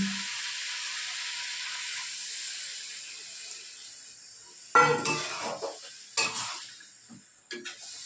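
Water poured into a spiced biryani mix with broccoli in a hot pot: a steady hiss of sizzling is broken by a few sharp, louder bursts of splashing and spitting as the liquid lands, with no talk.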